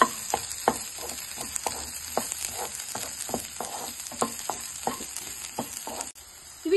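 Finely chopped garlic and green chillies sizzle in hot oil in a pan, a steady crackling hiss broken by repeated scrapes of a stirring spoon, with no talking.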